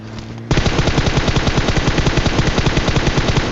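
Rapid automatic gunfire in the video game PUBG, a dense, fast string of loud shots sustained for about three seconds.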